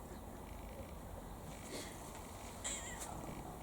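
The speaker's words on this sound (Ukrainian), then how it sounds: "І кіт Extreme Red, каже, мяу" A ginger cat meows softly outdoors on a rainy day, the brief call sitting over a steady hiss of rain and background noise.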